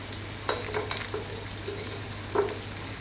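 Chili and spices frying in a pan for a fish curry, a low steady sizzle with a few sharp clinks and scrapes of a spoon against the pan, no voices.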